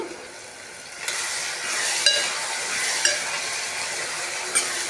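Chilli powder and spices frying in oil in a pan, a close steady sizzle that swells after a second, with a few light metallic clicks of a spoon stirring, no talking.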